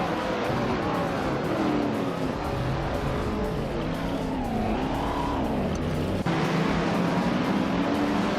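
A 1966 Chevrolet Chevy II Nova SS races in a video game, its engine roaring steadily and close with rising and falling pitch as it accelerates among other cars, a brief skid-like sweep midway.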